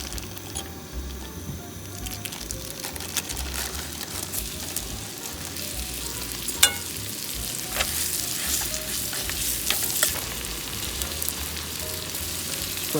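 Butter foams and fries in a pan at a campsite, a steady close sizzle with soft crackle running throughout and a few brief clinks and scrapes along the way.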